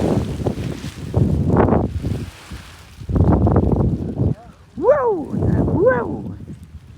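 Strong wind buffets the microphone during a paragliding outing in South Korea, roaring in gusty waves up close, while people talk and call out over it.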